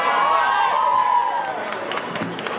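A live Diwali concert crowd applauds and cheers for a Punjabi singer, a dense burst of clapping and shouts that starts over a fading sustained musical tone and carries on for a couple of seconds.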